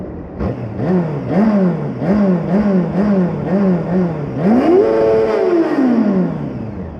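A Honda Hornet 600 motorcycle engine revs in the rain in repeated short bursts, pitch rising and falling, then one long climbing rev that slowly winds back down; loud and close.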